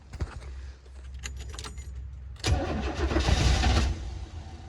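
A wrecked motorcycle's engine cranks after a couple of sprays of starter fluid. Clicks and a brief jangle come first, then a close, rough churning whir of cranking that swells and fades without catching.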